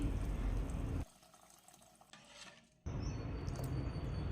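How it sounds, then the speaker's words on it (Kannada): Five glasses of water are poured into rice, lentils, turmeric, oil and salt in a pressure cooker for khara pongal, a gushing stream that pauses briefly before a second steady pour, close and moderately loud. "ನಾನಿಲ್ಲಿ ಐದು ಗ್ಲಾಸ್ ನೀರು ಸೇರಿಸ್ತಾ ಇದ್ದೀನಿ"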